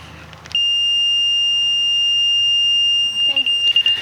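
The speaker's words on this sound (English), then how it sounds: "Sometimes it goes right from the slow beep immediately to the solid tone." A laser level receiver gives a steady high electronic tone, close and loud, that holds for about three seconds. It then breaks into a few quick beeps near the end, with faint background noise underneath.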